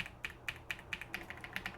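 Typing on a Redragon TerraFlare K762 Pro mechanical keyboard: a steady run of crisp, evenly spaced keystroke clicks, close and fairly quiet, with no talking.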